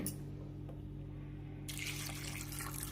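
Water runs into a cooking pot holding washed toor dal, tomato, onion and a little cumin, a steady close pour over a low hum that grows brighter and splashier partway through.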